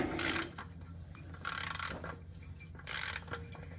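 Wrench loosening the oil drain plug on a 2019 Toyota Highlander 3.5L V6, heard as three short bursts of quiet mechanical ratcheting clicks separated by pauses.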